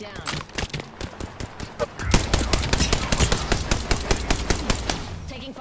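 Gunfire in Apex Legends: scattered shots, then dense, rapid automatic bursts that stay close and loud, with a voice speaking over the firing.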